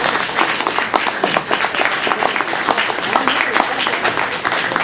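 An audience at a community history talk for the Reston Museum breaks into loud, dense applause, sustained for several seconds, with a voice briefly heard through it.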